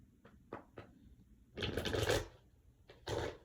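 Tarot cards being handled: a few light taps and flicks, then a long crisp riffle of shuffling and a second short shuffle burst, close and fairly quiet with no talking.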